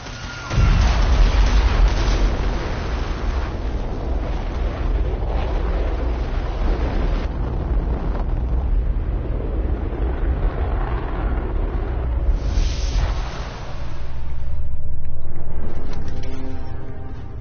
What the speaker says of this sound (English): Engine firing.